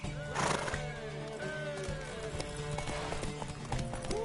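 A horse neighs loudly near the start while hooves clip-clop steadily underneath, over a busy background of music and ambient sound.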